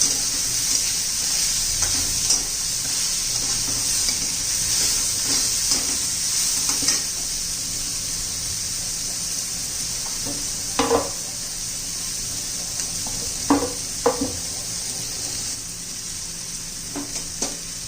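Vegetables with green and red chilies fry in a pan for dal khichdi, giving a steady close sizzle broken by occasional scraping stirs and clinks of the spoon against the pan, with no talking.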